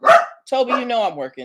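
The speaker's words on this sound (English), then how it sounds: "that's just my dog" A dog gives one sharp, loud bark close by, followed at once by a person speaking.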